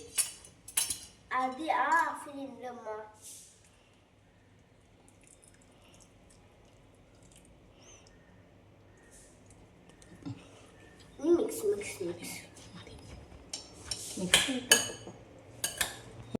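A spoon clinks and scrapes in a bowl as a simple healthy salad is tossed with ground pepper. The clattering comes in two bursts at the start and end, with a quiet gap between.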